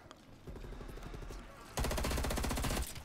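Rapid automatic gunfire from Black Ops Cold War, a light burst early on followed by a louder, dense sustained burst of rapid shots near the end, with no talk.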